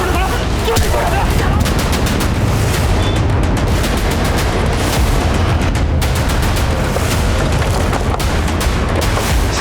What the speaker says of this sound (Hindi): साहब, अंदर से गोली चलने की आवाज आई थी।